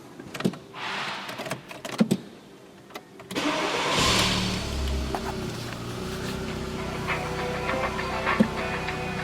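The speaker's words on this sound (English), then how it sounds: "now I'm going to start the car" A 1.6-litre VW Golf 4 with a camshaft sensor fault cranks and catches after a few seconds of small clicks and handling noises, then settles into a steady, close idle that runs to the end.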